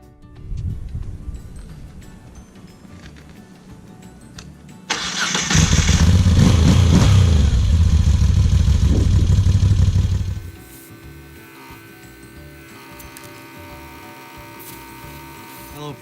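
A Moto Guzzi V7 III Stone motorcycle sits just out of winter storage. A faint whir comes first, then the engine catches and roars loudly at close range for about five seconds before cutting out to a lower, quieter background.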